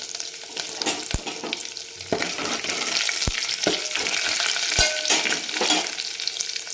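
Two dry red chilies frying in hot oil in a pan, a dense continuous sizzle with a few sharp utensil taps and stirring scrapes, close and fairly loud, no talking.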